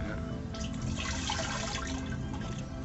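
Water pours into an arsenic water filter in Bangladesh, a steady close splashing and trickling of liquid with dripping throughout, loud and continuous.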